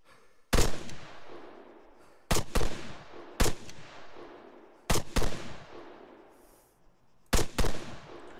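Gunfire in the video game ARMA 3: five loud, separate shots or short bursts spaced a second or two apart, each with a long echoing tail across open ground, with quiet between them.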